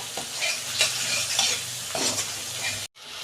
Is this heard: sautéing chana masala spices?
yes